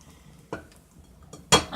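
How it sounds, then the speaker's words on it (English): A spoon stirs a pot of corned beef stew with fresh bay leaves, producing two short, close metallic clinks against the pot over faint background noise. "I'll be adding my fresh bay leaves and just give it a stir"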